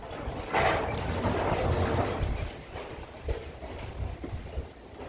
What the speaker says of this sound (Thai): ลมแรงค่ะลมแรงมากเลย ฝนน่าจะมาค่ะพี่น้อง ลมมาก่อนแล้วค่ะ